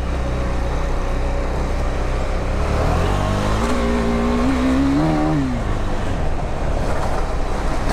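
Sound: KTM Duke 390 motorcycle accelerating

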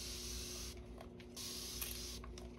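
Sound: spraying alcohol from a spray bottle

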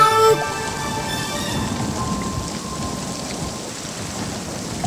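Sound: rain and thunder sound effect in a song

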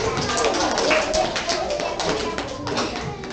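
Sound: audience applause for children

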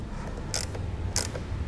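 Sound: tightening a car battery terminal nut

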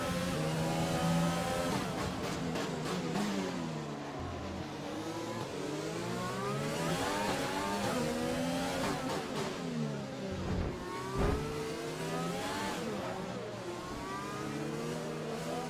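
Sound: race car engines accelerating at race start

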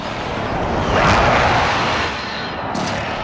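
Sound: friendly precision airstrike in Call of Duty: Modern Warfare video game

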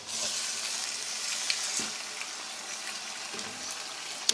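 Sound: chicken frying in pan after ginger paste

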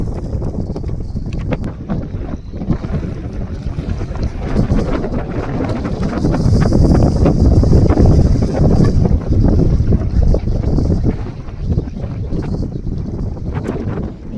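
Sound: strong wind on a fishing boat

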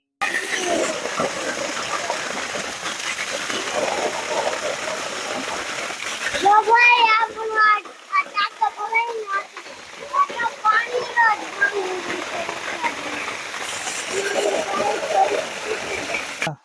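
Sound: water pump filling a tank

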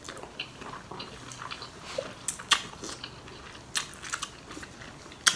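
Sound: chewing crunchy food, eating rice noodles with pickles

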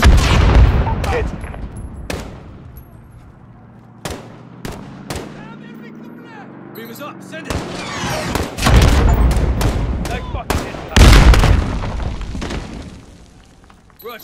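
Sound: incoming missile strike in Call of Duty: Modern Warfare video game

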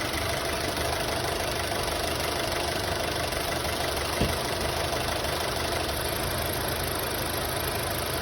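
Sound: Honda City 2016 engine revving as gas is pressed

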